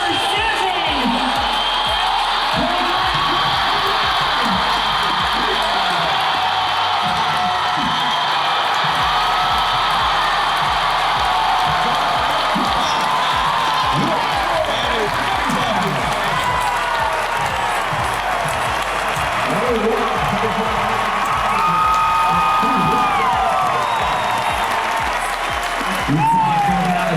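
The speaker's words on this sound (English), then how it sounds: "Let's make some noise. Let's cheer them on." A stadium crowd at the CrossFit Games cheers and whoops continuously beneath ongoing commentary, with a steady wash of applause and scattered shouts during a thruster event.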